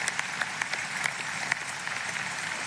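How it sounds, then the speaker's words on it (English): Applause at a university undergraduate commencement, a steady crowd of hands clapping heard from a distance, fairly faint, with a few sharper individual claps standing out. "Let's clap for that."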